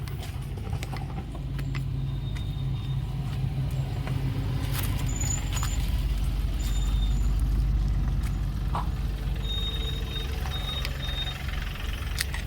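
A jeep or similar vehicle approaches at a hillside temple, its engine a steady low rumble that holds throughout, with faint rattles and small clicks over it.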